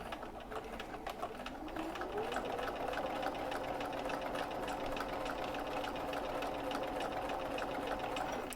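Domestic sewing machine stitching steadily along a metal-teeth zipper on a bag, a continuous close whirring motor hum with rapid needle ticks that runs without pause throughout.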